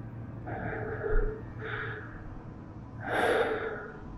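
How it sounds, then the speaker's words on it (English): Heavy breathing over a phone call: slow, close, audible breaths in three drawn-out pulses, the last one louder and harsher, over a faint low hum. "All I was met with was breathing."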